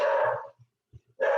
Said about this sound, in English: Sorry, my dogs are in the background.